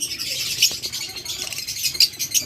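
A pair of parblue lovebirds gives shrill, rapid squawks and chirps close by, repeating in quick bursts over a faint background murmur.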